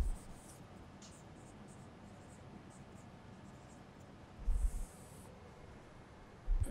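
A lecturer writes an equation on the board in a thermodynamics class, giving a faint, steady scratching of strokes. Two brief louder taps or squeaks come near the end.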